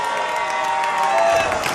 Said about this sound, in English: Gaz and Ben, big round of applause again, please